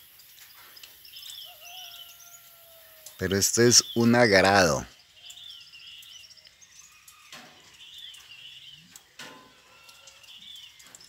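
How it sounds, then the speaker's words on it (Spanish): Birds chirp and sing at dawn in a rural spot where cows are kept, with scattered calls near and far and insects buzzing softly; someone speaks briefly partway through. "A las 5:30 el despertar de los pájaros es terrible."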